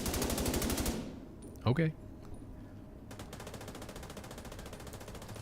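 Automatic gunfire in The Division 2 Warlords of New York video game, a rapid rattling burst, then a pause with a short spoken word, then steady continuous firing resumes.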